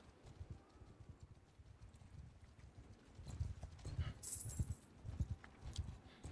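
Horse hooves pounding in the Mount & Blade II: Bannerlord video game, a faint, uneven run of clip-clop hoofbeats that grows busier midway, with a brief high rattle and no voices.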